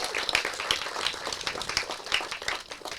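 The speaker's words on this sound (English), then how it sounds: "we should give a big round of applause to start for Dr. Temple Grandin." An audience at an autism resource fair keynote claps for the keynote speaker, with scattered, fairly faint applause and individual claps standing out.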